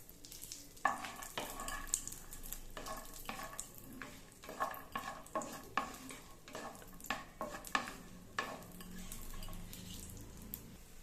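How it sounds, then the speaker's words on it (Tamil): Cashews fry in ghee in a pan, a low steady sizzle under frequent close scrapes and clinks of a spoon stirring them for the whole stretch. "எல்லா முந்திரியும் சேர்த்து பொன்னிறமாக வறுத்து எடுத்துக்கணும்"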